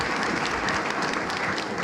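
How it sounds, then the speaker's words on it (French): Audience applause at a French-speaking church convention, honouring a singer who performed, fills the room as a dense, steady patter of many hands, loud and unbroken, with no voices over it. "Est-ce que vous voulez faire un applaudissement pour lui?"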